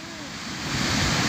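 Big ocean waves surge at Ngilir beach, making a broad, steady roar of surf close by that grows a little louder during a very short moment.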